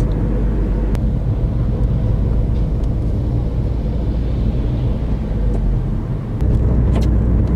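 Steady road rumble of a car driving through Hakone's Sengokuhara area, heard from inside as a continuous low, even drone with no talking.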